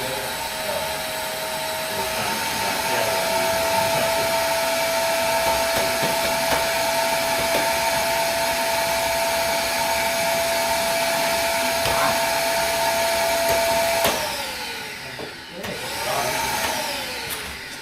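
A garden leaf vacuum runs continuously close by, sucking up birch leaves with a steady loud whine, then cuts out near the end as it clogs, leaving a few brief rustles and knocks.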